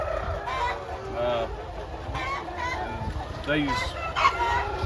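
Many chickens, roosters and hens in a poultry house, cluck and call continuously at close range, with a rooster crowing among them.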